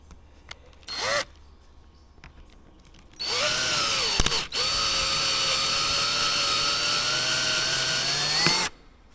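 A power tool works on a wingroot fairing of a Rotec Renegade aircraft while a rivet is set: a short whine burst, then a loud, steady motor whir for about five seconds, ending abruptly.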